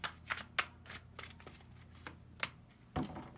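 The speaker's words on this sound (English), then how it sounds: "I'm going to shuffle one more time," Tarot cards being shuffled up close, with a series of crisp riffling bursts and soft slaps at an uneven rhythm, fairly quiet and without talk.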